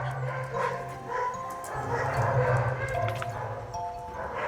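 A crowd of dogs barking and yipping in a shelter recovery pen, sustained and loud throughout, with overlapping calls and a low hum beneath.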